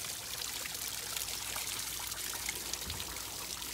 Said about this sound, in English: Nice water feature.